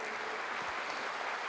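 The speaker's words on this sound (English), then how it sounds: "A big round of applause, dear friends." An audience applauds after an endowment lecture, a steady, dense wash of clapping from many hands that continues evenly throughout, filling the hall without pause.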